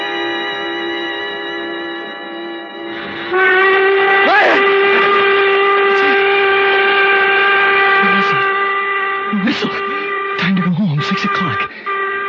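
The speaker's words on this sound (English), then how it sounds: "the whistle woke me up" A sustained steam-style train whistle played as a sound effect in an old radio mystery drama, one long loud chord-like blast that swells and holds, with a voice breaking in over it partway through.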